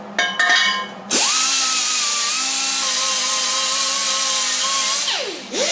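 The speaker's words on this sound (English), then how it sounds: "grind the paint off here" A power tool grinds paint off the metal of a 1953 Buick, spinning up with a rising whine, holding a loud sustained high-pitched grinding roar for about four seconds, then winding down, with short clattery bursts at the start.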